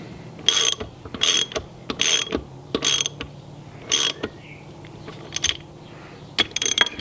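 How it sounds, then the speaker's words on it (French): A ratchet or torque wrench snugs transfer case bolts on an NP249 transfer case, its quick metallic ratcheting bursts repeating in a rhythm of short strokes, close and clear, with brief pauses between. "je vais serrer au couple"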